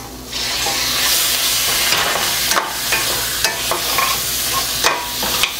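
Mutton liver frying and being stirred in pepper masala in a pan over a low flame, with a steady close sizzle broken by repeated scraping strokes of the spoon and no voices.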